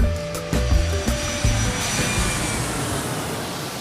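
Airplane taking off: a loud, close jet engine roar that swells and then settles into a sustained rushing drone, with no talk.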